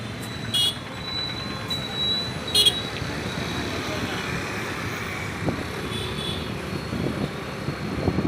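Road traffic rumbles steadily through a street in Hindupur, with a few short car horn toots rising above the constant drone and a louder burst near the end.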